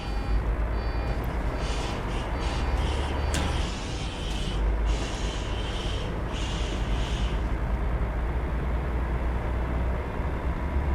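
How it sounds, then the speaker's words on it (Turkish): A continuous low engine rumble with a whining, pulsing retarder brake hum layered above it from a bus in Euro Truck Simulator 2, steady and fairly loud, no talking. "Bu arabanın retarder sesi bir başka ya yani."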